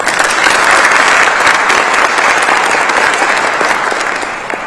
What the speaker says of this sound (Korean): 빨리 회복되라고 박수 한번 주십시오.